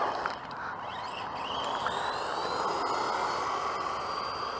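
Arrma Typhon Mega 1/8 scale RC speed buggy running at full throttle, a steady, loud high-pitched electric motor whine with broadband rushing noise, holding constant throughout with slight pitch shifts.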